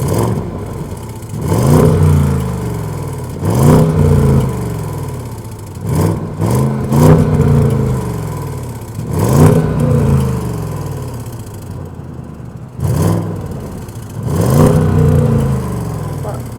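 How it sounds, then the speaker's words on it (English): Repeated revving of a 2023 Audi S8's 4.0-liter twin-turbo V8, about seven sharp throttle blips that swell and fall back in a steady rhythm, loud and close. "This is the monstrous 4-liter twin-turbo V8, which, let me show you guys exactly what this thing sounds like"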